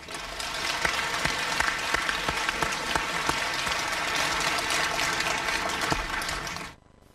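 An audience at a Hong Kong gathering applauds in a dense, sustained burst of clapping that fills the room steadily, then cuts off abruptly near the end.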